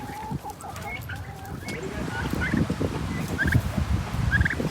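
Turkeys gobble and cluck in their old coop out back, several overlapping calls and warbling gobbles over a busy, shuffling background, fairly close.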